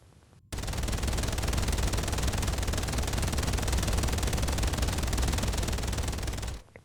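A minigun fires in Daemon X Machina as one continuous, extremely rapid stream of gunfire lasting about six seconds, loud and dense, starting and stopping abruptly.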